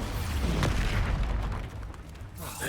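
Rumbling explosive blasts from Expulso and Confringo spells in Hogwarts Legacy, a dense, loud low boom with crackling debris, fading into a quieter tail near the end, no talk.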